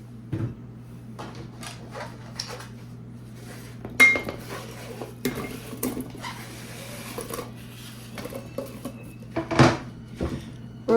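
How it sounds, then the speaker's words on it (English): Cut fruit going into a 4.5 quart crock pot for an autumn Thanksgiving dish: a run of close clanks, taps and clatters of utensils and containers, irregular and fairly soft, over a low steady hum. "So let's start by adding our fruits that we just cut up."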